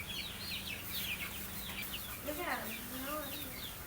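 Young chicks cluck and chirp in soft, short calls while they forage for insects and bugs, with a lower clucking murmur running underneath.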